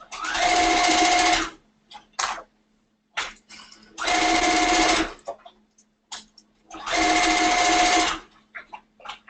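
A sewing machine stitches a bar tack on a ballet bodice in three loud, steady whirring bursts of about a second and a half each, separated by brief clicks and handling noises.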